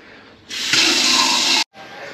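Tap water in a house is turned on and rushes out loud and steady for about a second, then cuts off abruptly, leaving a quieter hiss of flow.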